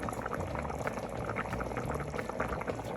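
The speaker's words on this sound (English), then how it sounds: "So as you can see, I got it coming to a rapid boil." Water at a rapid boil in a pot for Cambodian chicken rice porridge, a steady dense bubbling and rumbling that runs close and unbroken throughout.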